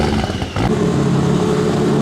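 A Toyota Supra MK4 six-cylinder engine idles steadily and loudly on a dyno after starting, with a brief burst of voice or noise near the start before the rough, even drone settles in.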